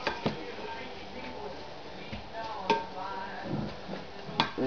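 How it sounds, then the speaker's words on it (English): Tuna is stirred with salt in a bowl, producing soft scraping and a few sharp utensil clicks against the bowl, close up, with a voice talking over the mixing. "I usually give that a good mix so that tuna can get good and flavored"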